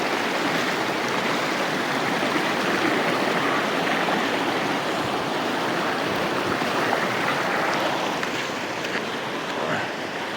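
A cold mountain stream flows with a continuous broadband rush of water, steady and fairly close, with no voices heard.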